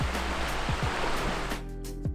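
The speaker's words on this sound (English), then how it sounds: "look at this awesome creek we get to walk along" A creek flows along a Grand Canyon hiking trail, a loud, steady rushing of water close by, broadband and continuous, with footsteps or thumps rhythmically heard over it.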